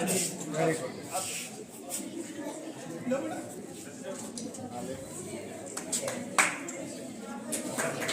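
Audience clapping at the closing prize ceremony of a district-level school sports competition at Anuvrat School, Chhapar, a dense patter of many hands running steadily throughout under continuous talk.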